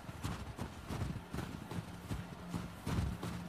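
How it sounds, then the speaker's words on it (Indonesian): Horse hooves clip-clopping at a steady walking pace in The Last of Us Part II, a rhythmic series of soft thuds under faint game ambience, no talk. "Tapi dinanya kok tetap masih naik kuda gitu."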